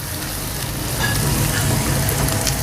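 Cabbage and other vegetables sautéing in a hot pan for chicken chow mein, a loud, even, continuous sizzle with a faint rustle of stirring, close up and without voices.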